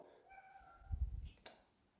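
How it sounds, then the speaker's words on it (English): A faint, short meow from a cat rises and fades in the quiet, followed by a soft low rumble and a brief click. "Oh, I heard a meow."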